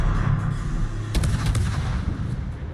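Warship guns firing in a naval video game, a sharp burst of several rapid booming shots over a constant rumbling engine and ocean background.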